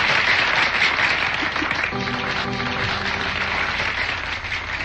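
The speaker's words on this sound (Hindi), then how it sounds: "बहुत सारे लोग चाहते हैं कि तालियां बजाई जाए आपके लिए" Audience applause at an antakshari song program, a broad steady clatter of clapping with a brief tonal murmur or hum in the middle, fading slightly at the end.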